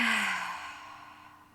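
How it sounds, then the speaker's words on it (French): A single slow, deep exhalation during a self-massage relaxation exercise, a soft breathy sigh that trails off gradually, close and alone. "Et inspirez. Expirez."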